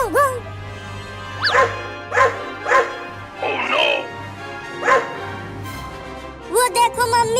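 In a comedic desi sketch, a human voice imitates a dog barking, giving about seven loud, yelping woofs in uneven bursts, mixed with a spoken exclamation at the start and more talk near the end.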